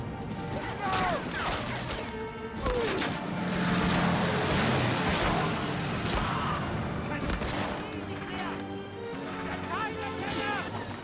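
M1 Garand rifle shots ring out in the Medal of Honor Frontline port level, several sharp reports among busy in-game battle noise and distant crashes, fairly loud and continuous.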